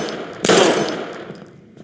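A single loud, close gunshot from the adventure game Life Is Strange cracks out and decays with a metallic ring over a faint high tone.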